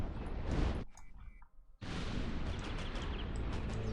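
Miracle explosions in the god game Black & White go off as a loud, broad blast, cut off for a moment, then a dense rumbling burst continuing to the end.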